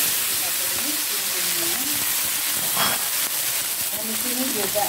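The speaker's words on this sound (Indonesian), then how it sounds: "Kita tumis dulu bumbunya ya" Spice paste for spicy beef-tendon soup sautéing in a hot pan, a loud steady sizzle and hiss throughout, with brief stirring scrapes.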